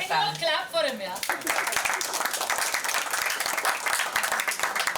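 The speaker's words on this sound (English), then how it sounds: "Clap for him, yeah." An audience at a magazine cover unveiling breaks into lively clapping after a brief spoken line, the applause dense and steady for several seconds.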